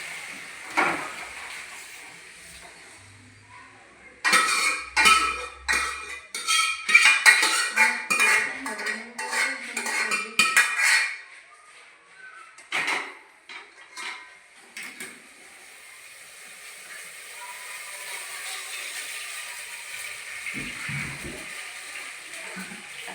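Pots and utensils clatter and scrape as fried chicken is transferred from one cooking pot into another, a dense burst of metallic clinks and knocks followed by quieter scattered taps and a soft background hiss, with no one speaking.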